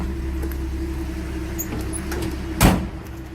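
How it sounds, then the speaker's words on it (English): A 1967 Ford F-100 pickup door slams shut in a single sharp thud over a low background rumble, close and fairly loud. "So nice if that door closes."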